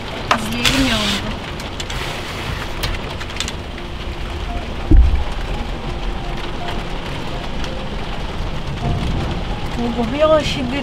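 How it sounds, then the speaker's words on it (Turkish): Heavy rain drums steadily on a camper van parked by a flooding beach, with a brief thunder crack near the middle and voices talking over the downpour. "İzleyelim yağmuru."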